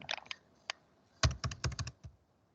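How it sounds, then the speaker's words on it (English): Quick clusters of keystrokes on a computer keyboard, close and crisp, arrive in two short bursts split by a pause, with a lone tap between them and no voice. "I am typing when we create"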